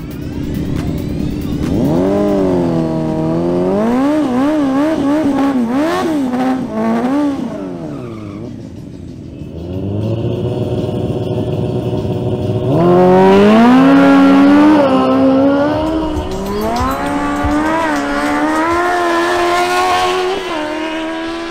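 Kawasaki Ninja ZX10R and Suzuki GSX-R1000 superbikes in a drag race, engines screaming loud and close through rising, falling gear changes, then a second roaring run of climbing revs.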